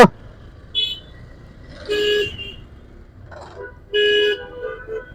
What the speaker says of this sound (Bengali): আমার হর্ন দিতেছে